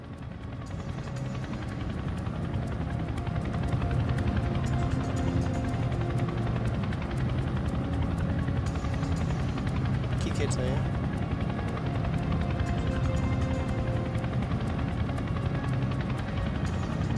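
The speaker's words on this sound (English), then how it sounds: "The Chinook arrives in Scottish airspace." A Chinook twin-rotor military helicopter in flight over Scotland, a steady, loud rotor drone and buzz that fills the whole stretch without easing off.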